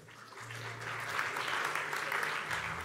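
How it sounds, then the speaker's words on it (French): An audience at a French fishing-industry panel applauds as a latecomer runs onto the stage, a short, steady burst of clapping over a low room hum. "On applaudit Renaud qui arrive en courant"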